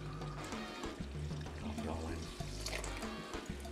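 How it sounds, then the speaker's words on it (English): Steady running warm tap water splashes and pours into a bowl of fajita ingredients, a continuous rushing wash with low clattering underneath. "then I'm gonna start adding the water in."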